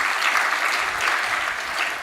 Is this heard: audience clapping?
yes